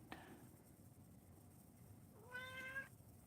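A domestic cat meows beside an empty food bowl indoors: a faint chirp at the start, then one clear, drawn-out meow, both quiet against soft room noise.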